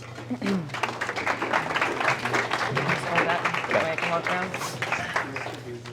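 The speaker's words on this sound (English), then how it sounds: "let's give a warm round of applause for Ms. Laura Jensen" Scattered clapping from a modest audience at a scholarship informational luncheon, welcoming a speaker; dense, close handclaps with a voice heard over them.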